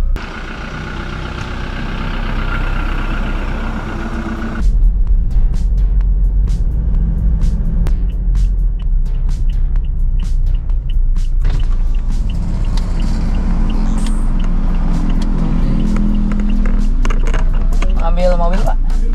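A car engine hums and rumbles steadily as the vehicle pulls away and drives on, a continuous low drone with road noise throughout, while people talk over it.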